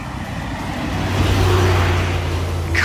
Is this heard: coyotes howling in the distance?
no